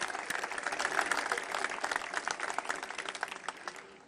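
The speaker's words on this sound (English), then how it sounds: "I think everybody should give Marvis applause." Audience applause for Marvis Frazier at a Joe Frazier statue event, dense steady clapping from a crowd that thins and fades toward the end.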